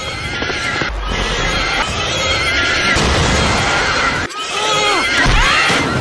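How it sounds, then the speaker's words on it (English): A corrupted horse from the animated series Star vs. the Forces of Evil neighs loudly and repeatedly, shrill whinnies with hoof clatter beneath, close and harsh through the whole stretch. "Speaking of the horse, it's really fucking loud and annoying."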